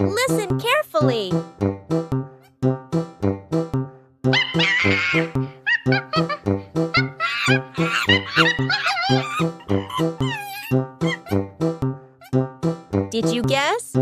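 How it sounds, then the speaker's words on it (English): Chimpanzee calls, a rapid run of rhythmic hoots building into excited pant-hoots and shrieks, loud and close, with a short pause partway through before the calling resumes. "Correct! It's a chimpanzee. The chimpanzee says ooh ooh ah ah."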